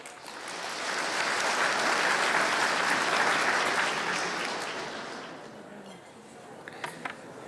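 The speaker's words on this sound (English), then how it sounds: "Please give her a big applause." An audience at a forum on US-China intellectual property and Chinese brands applauds a speaker, broad clapping that swells to a peak, holds, then fades to a few scattered claps near the end.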